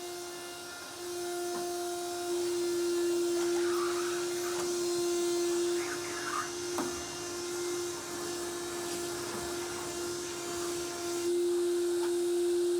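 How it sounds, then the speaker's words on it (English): A vacuum cleaner runs steadily over hotel room carpet, a continuous whining hum with a strong steady tone, moderately loud and unbroken for the whole stretch, with small bumps as it moves. "vacuum the carpets."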